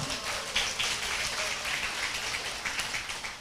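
Seminar audience clapping in a hall, a steady patter of many hands at moderate loudness, continuing evenly throughout.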